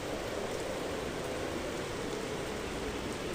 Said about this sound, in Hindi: अभी वो जा ही रहा था कि तेज बारिश शुरू हो जाती है।